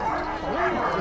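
Excited sled dogs in an Alaska dog yard make a dense, loud chorus of overlapping barks, yips and whimpering whines, with rising and falling howl-like tones over constant noise.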